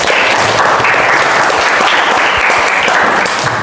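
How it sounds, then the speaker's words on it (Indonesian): A classroom of students applauds together during a mathematics lesson, steady dense clapping at full loudness throughout with no talk over it. "Mari kita tepuk tangan."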